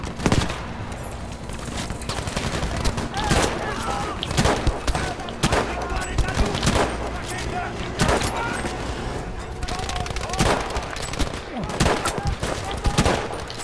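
Sustained gunfire in the Battlefield video game, with rapid shots and bursts cracking loudly and irregularly through the whole stretch while a voice talks over the shooting.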